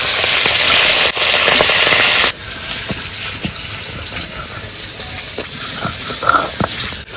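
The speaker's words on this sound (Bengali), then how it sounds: "আমাকে ধুন হচ্ছে মাছগুলোকে ভেজে নিচ্ছি" Fish frying in hot oil in a home kitchen, a steady hiss and sizzle, loud broadband at first then dropping to a quieter, continuous crackle with scattered pops.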